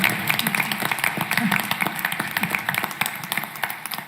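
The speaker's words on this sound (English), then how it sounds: "That's an applause there," A small audience at a school board of education meeting gives brief, scattered applause, individual claps loosely overlapping in an uneven patter without building into a full ovation.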